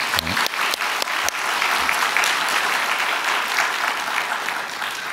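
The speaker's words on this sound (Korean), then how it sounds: "다시 한번 우리 박수로 축하합시다." Church congregation applauding graduating students of a Christian school at a Sunday afternoon service, a burst of warm, sustained clapping from many hands that fills the hall evenly.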